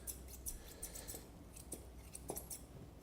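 Several quick, crisp snips of grooming scissors trimming a Cockapoo's hair close by, spaced irregularly over a few seconds, with faint background noise in between.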